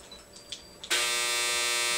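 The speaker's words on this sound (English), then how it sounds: "Oh, that was my dryer." A household clothes dryer abruptly starts after a few faint clicks, then runs as a loud, steady electric hum and buzz with no pause.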